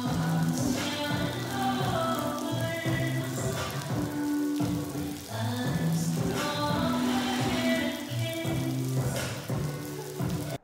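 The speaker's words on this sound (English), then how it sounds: "there's literally water coming from the sky" Rain pours down outdoors during a music video shoot, a dense, continuous patter on surfaces that stays loud throughout, with music playing underneath.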